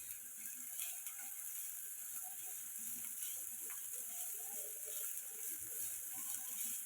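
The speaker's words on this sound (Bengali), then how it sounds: "তেলের ওপর দিয়ে দিলাম পেঁয়াজ কুচি। এবারে পেঁয়াজটা হালকা" Finely chopped onion frying in oil in a home kitchen, giving a soft, steady sizzle with faint crackles that runs evenly through the whole stretch, fairly quiet and with no voices.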